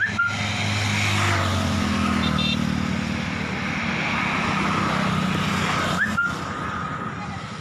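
Motorcycles carrying two or three pilgrims each roll past on a road through the Jamudiya ravine near Udaipur, a steady loud engine drone throughout with a brief dip near the end.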